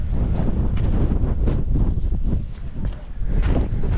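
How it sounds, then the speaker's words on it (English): Strong 30 mph moorland wind gusts across the exposed summit of the Roaches in the Peak District in winter, buffeting the microphone with loud, rumbling roars that surge and ease in waves. "Wind speed's really high. I think it's 30-mile-an-hour winds at the moment, gusting a little bit more."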